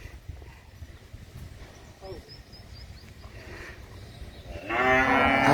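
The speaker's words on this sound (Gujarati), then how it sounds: "બધી ગાયો છે." Cows in a cattle shed, where calves drink their milk, make low mooing sounds, and a loud, drawn-out moo swells up near the end over faint shuffling and background noise.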